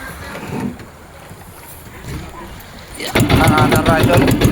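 A Yamma 20 HP outboard engine on a new boat at the seashore starts and runs loud and close, a rough steady drone, while wind buffets the microphone and people talk over it.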